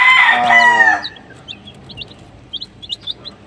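A gamefowl rooster crows loudly and close at a gamefowl farm, one long crow in the first second, followed by faint, scattered chirps from other birds in the yard.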